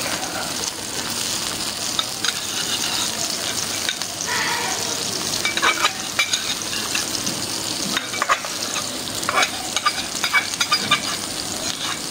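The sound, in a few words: spices frying and being stirred for korma pulao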